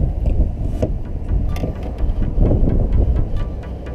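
Steady wind buffets the microphone out on open water during kayak fishing, making a loud continuous rumbling roar with gusty swells and no speech.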